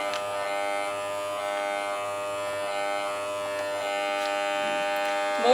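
A budget vacuum sealer's pump runs with a steady electric buzz and whine, close and constant throughout with no pauses.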